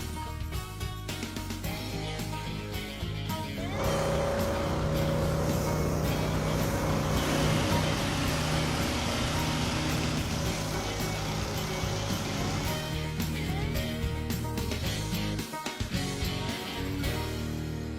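A 1952 Jeep yard find is dragged in on a chain, giving a steady broadband rumble and scraping roar that swells loud mid-way, with rattles and clunks near the end and no talk over it.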